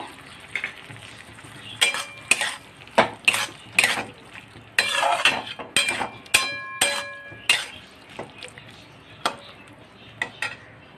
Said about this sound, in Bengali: আমি ওতে এবার 1 চামচের মতো একটু ঘি মিশিয়ে দেবো।